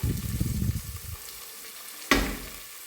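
Onion frying in a pan of oil for an economical rice dish, a steady loud sizzle that fades partway, then a sharp burst of fresh sizzling near the end.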